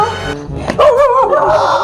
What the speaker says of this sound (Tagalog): May aso sila, Bebang!